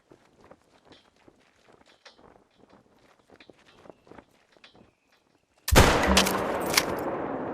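After a stretch of soft footsteps and shuffling, a video-game rifle opens up with a sudden loud burst: a few sharp shots fired at a target, ringing into a dense, sustained roar.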